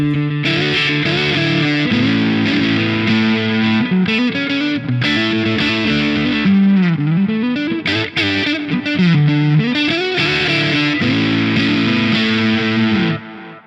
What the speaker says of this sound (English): check out this edge of breakup sound